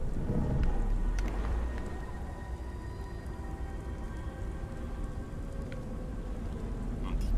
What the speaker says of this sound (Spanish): Dichosa lluvia.